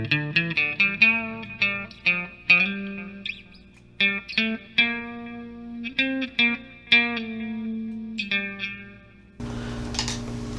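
Electric guitar played through a NUX MG100 on its Ultra Clean preset: clean picked notes and chords with chorus shimmer and echo tails, ringing alone, ending in a brief noisy burst.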